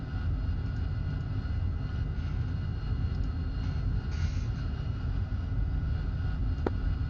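A video game aircraft engine drones loud and steady as the plane rolls toward the runway, a continuous low rumble with no break and no talk over it.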